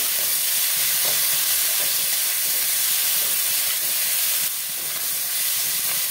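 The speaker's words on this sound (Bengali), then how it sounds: "দেবো কেটে রাখা টমেটো, দেবো স্বাদ মতো লবণ, ভালো করে কষিয়ে নেব।" Tomato, salt and spices sautéing with snails in a pan, a steady broadband sizzle and hiss running throughout with occasional soft stirring scrapes, close and fairly loud, no voices.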